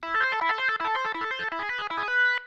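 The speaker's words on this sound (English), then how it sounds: "This is a Hammond sound with a distortion pedal added to it." A Hammond organ through a distortion pedal plays a quick run of chords and notes, gritty and buzzing, ending on a held chord.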